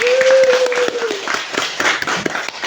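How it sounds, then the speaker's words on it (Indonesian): A classroom of students claps hands together in a short burst of uneven, overlapping claps during an Islamic studies teaching-practice lesson, with a brief sustained voice tone at the start. "Beri tepuk tangan dulu."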